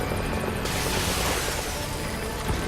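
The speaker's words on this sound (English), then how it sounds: "Support helicopter has arrived." A support helicopter arrives in Metal Gear Solid V, its rotor and turbine roar loud and continuous, with dense chopping wash that thickens as it closes in and no talk over it.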